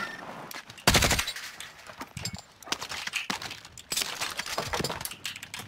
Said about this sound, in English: Look, they're firing.